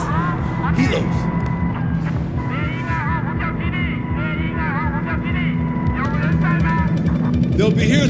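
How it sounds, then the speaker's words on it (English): Helicopters roaring overhead in Battlefield 4, a loud continuous engine and rotor drone throughout, overlaid by shouted character voices and game effects. "Helos above!"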